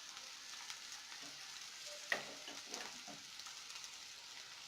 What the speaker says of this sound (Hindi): अब मैं इसमें सूखे मसाले डालूंगी